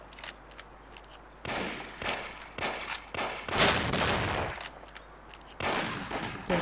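Bursts of gunfire from the video game Mafia, loud clustered volleys of rapid shots separated by short pauses, close and punchy with no talking over them.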